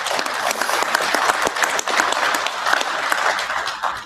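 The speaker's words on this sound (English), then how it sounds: "Give yourselves a big applause for that" A conference audience applauds steadily for about four seconds, a dense, even wash of many hands clapping at close range with no break.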